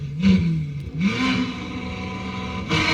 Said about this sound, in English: It's a Ferrari.